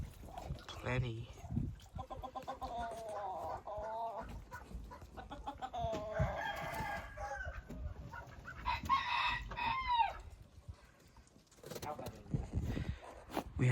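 Chickens in a backyard farm pen cluck and squawk steadily, with a rooster-like crow and other fowl calls layered in, close and continuous while a person talks across much of it.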